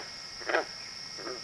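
A frog gives two short croaks, one louder near the middle and a fainter one near the end, over a steady high insect-like hum outdoors.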